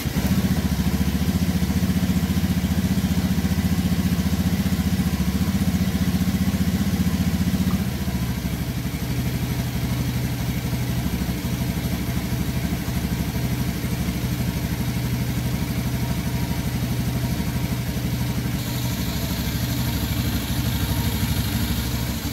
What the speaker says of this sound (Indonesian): kita nyalakan saja motornya